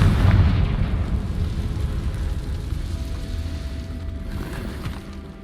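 A Confringo fire-blast spell from Hogwarts Legacy goes off as a heavy, rumbling explosion that booms loudest at the start, then tails off into a dull crackling roar.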